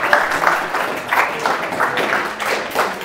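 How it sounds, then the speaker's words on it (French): Audience applause after a climate-transition conference talk, a steady patter of many hands clapping at moderate level with slight swells, continuing for a few seconds and no voices standing out. "Merci Cédric Carl, on peut l'applaudir"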